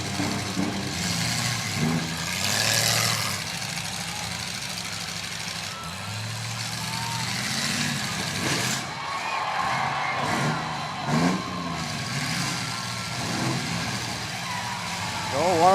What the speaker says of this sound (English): There's only three freaking cars here, and they're just tearing it up.